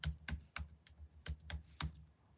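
Close, crisp keystrokes on a computer keyboard, about seven quick taps in an uneven rhythm while a search term is entered into editing software, with no talking.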